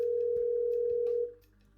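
A telephone call to Dad in Chicago produces a steady, single electronic tone held for over a second, then cut off, followed by faint line noise and a small click.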